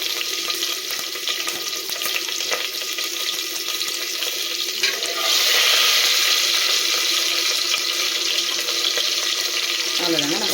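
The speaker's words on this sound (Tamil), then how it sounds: "பச்சை மிளகாய் சேர்த்துக்கலாம். பச்சை மிளகாய் பொரியட்டும்." Green chillies fry in hot oil for a mushroom biryani, a steady crackling sizzle that swells louder partway through and continues without talk.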